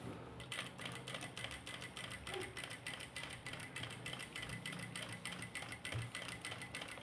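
A sewing machine stitches the edge of a cut work neckline, a steady, rapid mechanical clatter running continuously and fairly quietly close by, with no talking.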